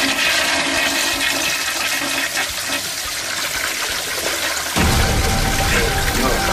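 A toilet flushing and overflowing, a loud steady rush of water close by that surges and deepens partway through, with no voices over it.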